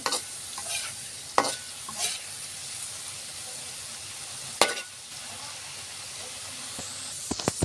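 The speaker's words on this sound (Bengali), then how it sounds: "ফ্রেঞ্চ ফ্রাইগুলো নাড়াচাড়া করে উল্টাই দিব। ফ্রেঞ্চ ফ্রাইগুলো সুন্দর করে ভেজে নেব লাল লাল করে।" French fries fry in a pan of hot oil while being stirred and turned. A constant hissing sizzle runs underneath a few sharp scraping knocks of the utensil against the pan, close up and loud.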